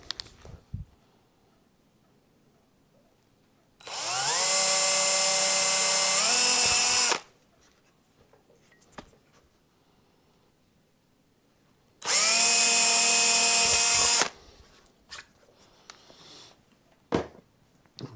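A power drill with a 2.5 mm bit drills screw holes for a Telecaster guitar, whirring in two loud bursts of about three seconds each, pitch rising as it spins up, separated by quiet handling noises.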